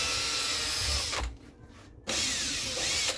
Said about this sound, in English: Just drill through there.